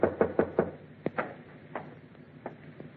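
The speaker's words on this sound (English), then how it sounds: "waited for your knock on my door" A quick series of four firm knocks on a door opens a 1948 CBS radio drama scene, followed by scattered softer thumps and footfalls in a muffled, narrow-band broadcast recording.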